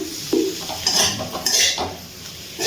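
Chopped capsicum stirred with spices in a pan for a vegetarian paneer dinner dish: close, irregular metal spatula scrapes and clanks against the pan over a faint sizzle.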